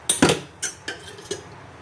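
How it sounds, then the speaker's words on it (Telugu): A metal pan, a kadai-style bandi, clanks down onto a kitchen stove with a sharp double knock, followed by three lighter metallic clicks as the stove is switched on, all close and brief, with no talking. "బాండీ పెట్టుకొని స్టవ్ ఆన్ చేసుకొని"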